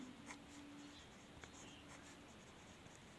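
Faint scratchy strokes of writing on a board during a class 10 maths lesson come in short, irregular bursts over quiet room noise.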